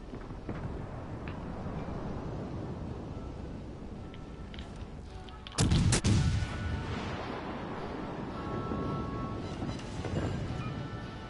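A heavy naval gun salvo booms loudly at one moment in a warship battle game, rising out of a steady low rumble of engine and sea ambience before and after.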